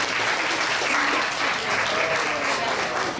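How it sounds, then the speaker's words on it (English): A crowd at an outdoor community race event claps steadily and loudly throughout, a dense continuous wash of applause with no break, as the audience honors a guest before the flash dash starts. "Let's give another round of applause for Mr."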